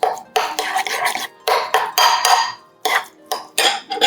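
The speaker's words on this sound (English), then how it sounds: "Then we're going to just stir this together." Spoon stirring a salt and cracked black pepper dressing in a bowl, a run of clinking, scraping strokes in quick bursts with short pauses between, close and fairly loud, no talking.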